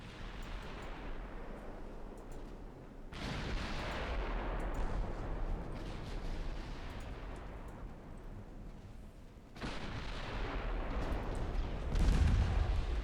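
Naval gunfire from 3-inch guns in the warship game Ultimate Admiral Dreadnoughts, heard as dense, rumbling booms and rolling blasts that swell in waves, continuous and fairly loud with no one speaking.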